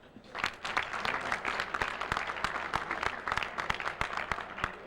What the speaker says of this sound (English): And you may applaud Joe Falcaro.